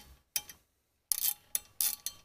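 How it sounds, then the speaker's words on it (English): A T30 Torx bit loosening a brake caliper bolt on a Pontiac Solstice front brake: a few quiet, close ratcheting clicks and scrapes in short, irregular bursts. "using a T30, we're going to take this bolt off now"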